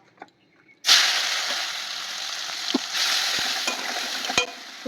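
Onions drop into hot oil in a pan after potatoes were fried crisp, and a sudden loud sizzle breaks out and keeps hissing steadily. Occasional clinks of a utensil sound over it while a fish-head muri ghonto is cooked.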